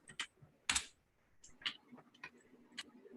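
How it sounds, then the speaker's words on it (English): Irregular keyboard typing, a handful of sharp clicks and clacks spaced unevenly with brief pauses, fairly close and quiet, no voices. "Keyboard is acting up."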